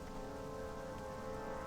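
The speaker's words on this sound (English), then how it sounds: "It's raining." Steady rain falls in the World of Warcraft video game, a dense, even hiss of drops on surfaces with a faint low rumble beneath, continuous and unbroken throughout.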